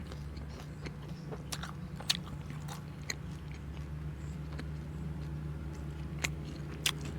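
Pizza being chewed close to the microphone, soft crunchy bites and mouth sounds scattered over a steady low hum of background traffic or machinery.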